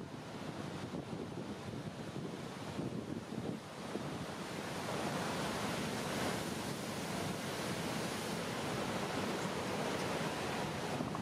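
Big Hawaiian surf roars as a steady wash of breaking ocean waves, mixed with strong wind buffeting the microphone and heard loud and continuous without voices.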